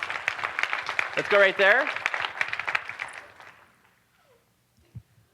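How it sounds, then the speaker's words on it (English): An audience applauds in a hall, a dense patter of clapping that fades away after a few seconds while a voice speaks over it. "let's give her a round of applause"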